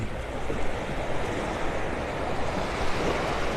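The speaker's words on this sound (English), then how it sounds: "Some little waves are rolling in here." Small waves roll onto Vanderbilt Beach in North Naples, Florida, as a steady broadband wash of surf with breezy wind noise on the microphone. No one speaks.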